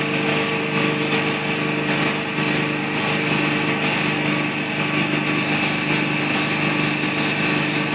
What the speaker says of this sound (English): Not keeping the sandpaper in any one spot for too long.